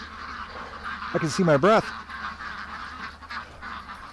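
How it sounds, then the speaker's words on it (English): Ducks in the cold let out a short cluster of loud, harsh honking squawks close by, then quieter calls. Someone talks before and after them. "The ducks are freaking."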